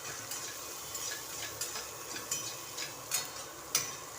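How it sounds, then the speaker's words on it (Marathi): Onion frying in a pan and stirred, with a soft steady sizzle broken by regular spatula scrapes and light taps roughly every half second, close and fairly quiet. "आता हा कांदा आहे ना चांगला भाजून द्यायचा आहे."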